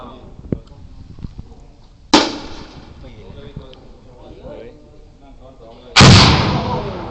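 M79 grenade launcher firing during police training at a range, two sharp loud reports a few seconds apart, with quieter clicks and speech heard between them.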